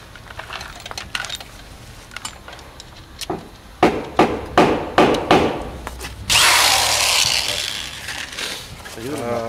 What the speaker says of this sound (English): we are taking a 3/16 blade or a drill, and we're going to drill our holes for the